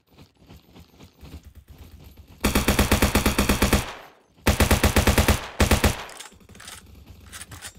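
Full-automatic MP40 submachine gun fire in the Roblox game Bad Business, heard as two long, loud, rapid bursts of close shots separated by a short pause, with lighter mechanical clicks around them.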